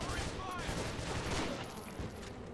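Rapid gunfire at zombies in Heart of Evil, a Half-Life mod video game, a dense fusillade of sharp cracks packed closely together at moderate loudness.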